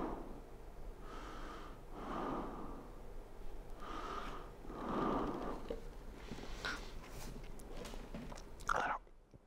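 A voice imitates heavy breathing into a headset microphone, a series of close, loud, rhythmic breaths and puffs repeating about every second or two, alone without talk.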